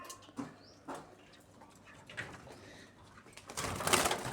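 A zebra dove (Java dove) coos softly in a few faint, spaced calls, followed by a brief burst of rustling near the end, all against a quiet background.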